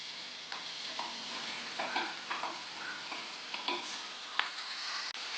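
Clam meat tossed with chilli powder in a frying pan, a steady low sizzle under repeated soft scraping and clicking strokes of stirring, close and alone.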